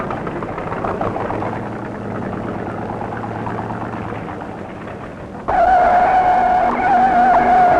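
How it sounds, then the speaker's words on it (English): A 1967 Chevy stock car spins in the second turn at a speedway during a 600-mile race, with a loud tire squeal rising sharply over the steady roar of racing engines and then holding to the end. "A spin in the second turn."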